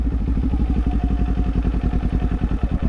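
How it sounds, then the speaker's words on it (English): A motorcycle engine braking as the bike rolls toward a stop, giving a loud, close, steady low-pitched rhythmic chugging throughout. "Let the clutch out, come to a stop, let it roll down. You hear the engine."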